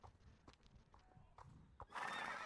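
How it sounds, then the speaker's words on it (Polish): A horse being ridden at a trot lets out a loud, close whinny near the end, after a few soft hoof thuds and rustles. "Tylko koń."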